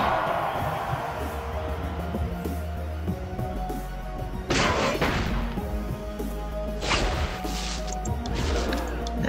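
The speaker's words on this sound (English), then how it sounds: "Let's use the Dozer Bomb." A Dozer Bomb attack explodes in a video game, giving two loud booming crashes a couple of seconds apart over a constant bed of game music and effects.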